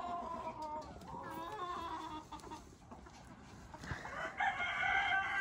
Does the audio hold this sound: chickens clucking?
yes